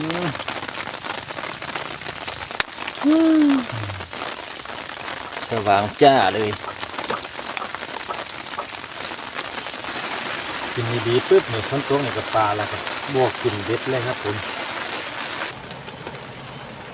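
Rain falls steadily on a surface outdoors during a fishing trip, a continuous broadband patter running under Thai speech throughout.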